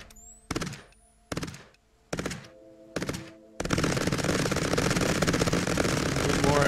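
Gunfire in the video game Cepheus Protocol: four separate heavy shots or short bursts spaced about a second apart, then continuous rapid automatic fire that keeps going, loud and close.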